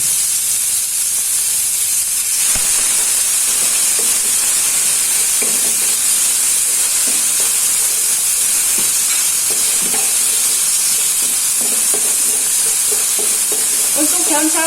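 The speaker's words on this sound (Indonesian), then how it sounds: "Untuk bumbunya saya tumis ya." Spice paste sautéing in oil in a hot wok for a young jackfruit stir-fry gives a constant sizzle and hiss, with occasional scrapes and stirring clicks throughout.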